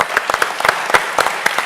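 A conference audience applauds the investor panel at a 2017 startup event, with a short burst of scattered, uneven clapping that stays moderately loud and fairly close.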